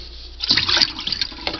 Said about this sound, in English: Then I dump my water